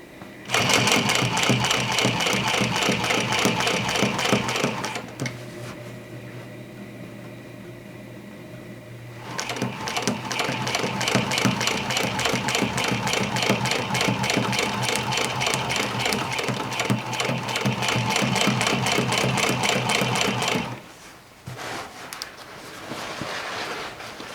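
A home sewing machine runs steadily through denim jeans made from a Vogue V1895 pattern, turned down to a slow speed, with a brief pause partway and a stop near the end, close and fairly loud.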